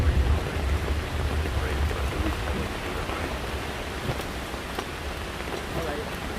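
Heavy rain from a thunderstorm with strong winds in Carsland, Alberta, hisses in a steady, dense roar with low rumbling underneath, continuous throughout.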